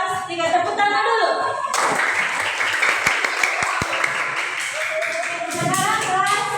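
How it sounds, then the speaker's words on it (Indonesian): A class of primary-school children bursts into loud, dense clapping after a teacher speaks briefly, and the applause keeps going steadily at close range. "Tepuk tangan dulu."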